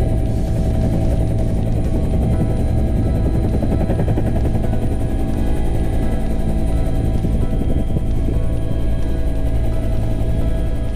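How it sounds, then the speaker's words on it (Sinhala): A Bell 212 helicopter taking off from an air force base and climbing makes a loud, continuous rotor thump and engine drone close by, with no talk. "SUH-566 අංකය දරන බෙල් 212 හෙලිකොප්ටරය ක්‍රමානුකූලව අඩි 7000ක උසක් දක්වා ඉහළ නගින්නට වුණා"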